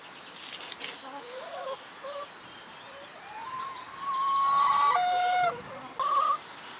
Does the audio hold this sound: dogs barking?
no